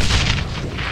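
A grenade blast in a video game, a loud, dense booming burst filling the short moment with rumbling low end, no voices.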